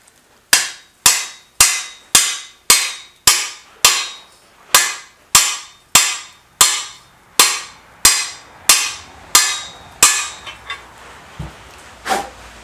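Engine mounts driven in with a big hammer and drift on an Indian Trailblazer motorcycle build: about fifteen sharp, ringing metallic blows at a steady rhythm, loud and close, followed by a few scattered lighter knocks.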